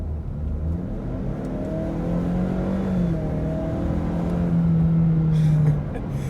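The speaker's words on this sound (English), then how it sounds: "Put it in sport mode, and we'll just give it a little bit of throttle, see what happens." A 2021 Ford Explorer's base 2.3L engine accelerates in sport mode, its rising engine note climbing steadily from inside the cabin and growing louder toward the end, with no one talking.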